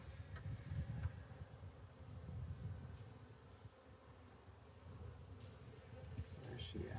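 Honeybees at an open hive during an inspection, a faint, steady droning hum with low rumble close by and occasional soft rustles.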